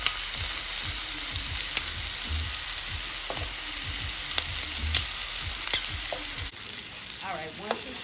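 Shrimp sizzle in a skillet after being flipped, a loud steady frying hiss punctuated by spattering pops and utensil clicks, the sizzle dropping slightly toward the end while a voice speaks briefly.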